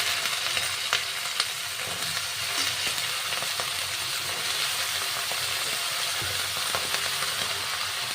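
Sliced onions fry in a pan for an Andhra-style curry, a continuous close sizzle and hiss with light stirring scrapes throughout, no voices.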